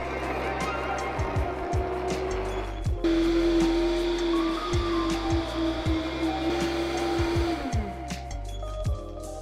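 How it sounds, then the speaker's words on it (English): A blender blitzes ramps with olive and canola oil, its motor whirring steadily at close range with a rising pitch midway, while brief knocks and rattles break in at intervals. "now we wanna blitz this with a mix of olive oil and canola oil"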